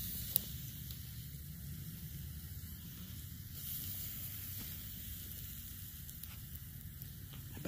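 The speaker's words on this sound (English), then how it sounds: "Little small grill, little packable grill. And then get some steak on there." Steak searing on a small packable grill, a faint, steady sizzle and hiss that runs evenly throughout with one tiny click near the start, heard at some distance outdoors.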